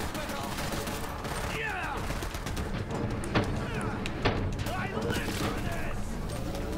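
Gunfire and shotgun blasts in the Borderlands 3 video game: dense, continuous bursts of shots with occasional sharper louder cracks, under overlapping excited player voices throughout.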